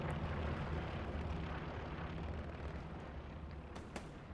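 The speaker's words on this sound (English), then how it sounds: "Here comes a big explosion on the hard cap." A big explosion in a military video game match on a hard cap objective, a loud sustained rumbling boom filling the whole clip with a sharp crack near the end, heard alone with no talk.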